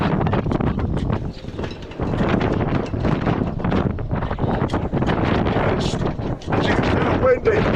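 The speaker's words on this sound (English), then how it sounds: "It's windy." Strong, gusty wind buffets a sailboat with forecast gusts near 50 knots, producing a loud, continuous roar across the microphone with rushing surges and flapping bursts, while voices can be heard faintly underneath.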